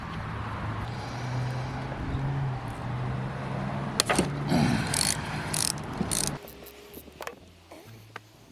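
A 5/16 socket ratchet works at a drain plug on a Tesla small drive unit, giving a run of sharp metallic clicks and clacks close by, with a few louder knocks and scrapes between quieter pauses.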